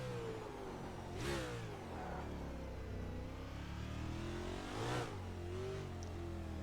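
A race car engine in the NR2015 racing game holds a loud, sustained high-RPM drone, swelling twice as it passes through gear changes, close and continuous with no talk.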